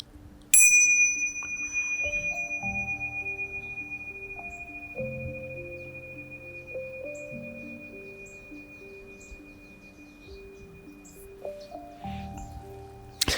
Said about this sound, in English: I'm going to ring the bells for that